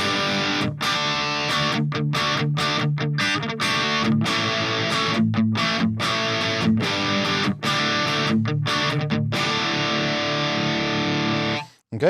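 Distorted electric guitar tone played through a Fender Tone Master Pro modeler with a blend control, loud and sustained with chopped, rhythmic chord stabs that cut in and out, ending in a brief break.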